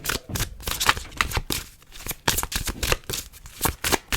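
Tarot cards being shuffled and drawn during a pick-a-card reading, a close, steady run of crisp riffling and papery slaps with brief gaps, heard alone without talk.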